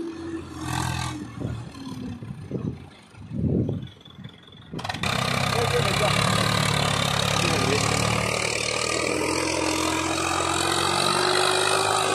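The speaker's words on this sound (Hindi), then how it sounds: "सौराज सात सौ चौवालीस हैप्पी ट्रैक्टर है फुल लोडेड ट्रॉले के साथ" A few faint knocks and rumbles, then the heavy engine of a Swaraj 744 XT tractor pulling a fully loaded trailer suddenly roars up loud and keeps running steadily under strain, close by.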